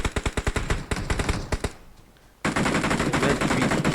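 Rapid automatic gunfire in the mobile shooter PUBG Mobile: a fast burst of loud, close shots, a short near-silent gap, then a dense continuous roar of sustained firing.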